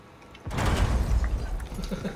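A grenade goes off in a Rainbow Six custom match, a sudden loud boom followed by about a second and a half of rumbling debris and scattered clatter.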